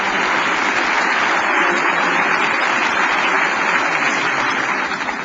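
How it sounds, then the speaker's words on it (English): Loud sustained clapping from a large audience at the 2007 ICCF gala in honour of Festus Mogae, President of Botswana, a continuous dense roar steady throughout with no speech over it. "I'm afraid the clapping might protrude into my 4 minutes"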